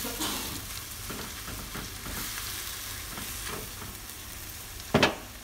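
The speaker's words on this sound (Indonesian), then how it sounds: "Ini dimasak sampai sosisnya matang." Sausages fry in a pan with a steady sizzle and occasional stirring scrapes, ending in a brief louder clatter near the end.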